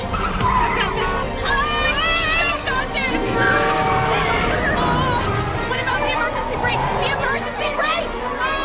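A car with failed brakes skids hard, its tires squealing in long wavering shrieks over engine rumble and a loud, busy mix, with voices under the squeal.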